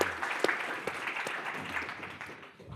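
Audience applause at a panel discussion on Poland and transatlantic relations, a steady wash of clapping from a seated crowd that fades slightly toward the end, with no talk over it.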